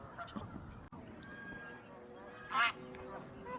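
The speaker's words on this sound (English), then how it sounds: "As always, there were numerous Canada geese here." Canada geese on water in Southern California give a few honks, one louder nearby call standing out over faint background calls and low chatter.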